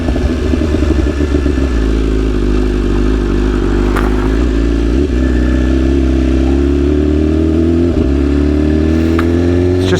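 A motorcycle rides along at steady cruising speed, its engine droning loud and close with a continuous low rumble that shifts pitch as it eases on and off the throttle, with wind noise over it throughout.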